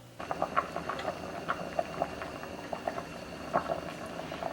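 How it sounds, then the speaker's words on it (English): A pot of water with sliced potatoes bubbles steadily at a rolling boil, soft irregular pops and gurgles over a low background hiss. "So now I'll slice them up and boil them."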